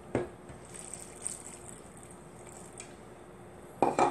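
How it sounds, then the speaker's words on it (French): Water pours steadily from a cup into a bowl of crêpe batter mix in a home kitchen, a soft continuous trickle with light clinks of dishes at the start and end. "On va y ajouter une tasse 3/4 d'eau."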